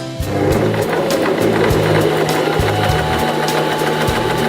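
A Janome 2049X sewing machine stitches steadily and loudly, its needle mechanism producing a rapid, even mechanical chatter with rhythmic low thumps throughout, no voices present.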